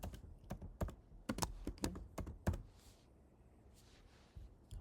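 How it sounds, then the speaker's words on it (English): Typing on a computer keyboard: close, quick bursts of key clicks that stop after a few seconds and leave quiet room tone, with no talking. "If you wanted to add text to your image, you could write text."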